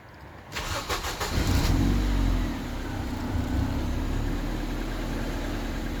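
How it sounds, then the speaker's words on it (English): A Ford Focus MK1 with a Sigma engine, which has a leak, starts up close by and then settles into a steady, even idle. A brief burst of higher revs comes before the idle. "I'll just leave you with the sweet sound of this engine"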